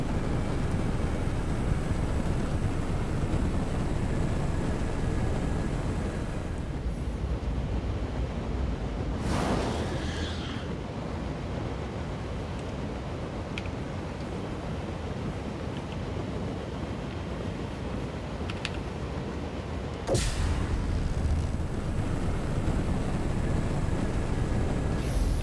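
Kruger Stingray ship from Star Citizen flying, a steady broad rushing roar like wind and engine wash, with a couple of brief whooshing swells passing through.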